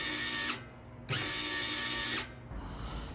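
A budget MIG welder feeds wire at a raised speed, giving a steady whirring motor drone. The run stops briefly, starts again, then cuts off, close up with no talk.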